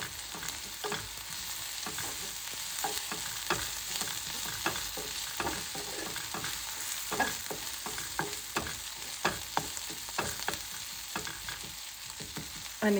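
Ginger and garlic fry in a pan for a Chinese-style eggplant dish, a constant close hiss of sizzling broken by frequent sharp scraping clicks of a spoon stirring, with no talking.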